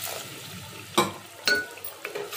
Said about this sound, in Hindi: चिकन कोरमा अच्छे से भुन रहा है।